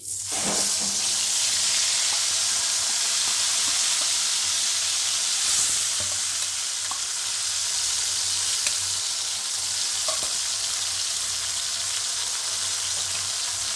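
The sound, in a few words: tomato, ginger and green chili paste frying in oil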